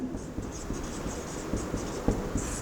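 A pen or marker scratching out an equation for longitudinal strain, short strokes and taps in an irregular rhythm, close and moderately loud over a soft background hiss.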